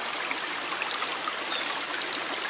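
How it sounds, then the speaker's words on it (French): Cold water in a small forest stream flows and burbles continuously, a close, steady broadband rush with fine trickling detail and no voices. "l'eau de ce ruisseau, elle est froide toute l'année"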